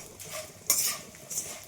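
Edible gum (gond) fries and is stirred in a pan, with a spoon scraping and clinking against the metal in a few short strokes over a faint sizzle.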